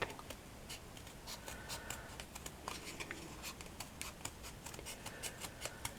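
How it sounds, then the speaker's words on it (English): Scissors trimming fabric into a round button shape, a quick run of close, quiet snips and crisp cuts in an irregular rhythm. "I'm going to trim it into a button shape."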